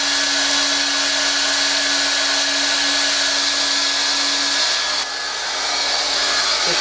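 A handheld heat gun blows a steady, loud hiss of hot air onto plastic, held close, with a constant motor whine that drops briefly near the end.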